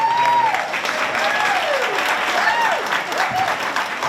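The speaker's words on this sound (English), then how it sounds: "Another round of applause for my stepmother" A crowd gives a round of applause for a stepmother named Carmen, steady clapping throughout with sliding whistles rising and falling above it and a few voices mixed in.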